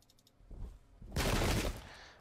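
Musket volley fire in the strategy game Pike and Shot during an English Civil War battle between Cornish Royalists and Parliamentarians: a crackling fusillade of many shots, a lighter burst first and then a dense, loud roll lasting about a second.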